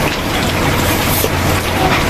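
Steady rain pours down during a rainy school day, a continuous dense hiss of falling water close by with no talking.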